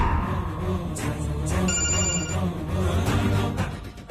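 A telephone rings with a repeating electronic tone pattern, fairly loud and close over a low background hum.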